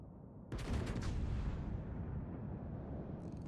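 A single heavy 16-inch naval gun salvo in the World of Warships video game erupts with a sharp, loud blast, then trails off into a long, rolling boom.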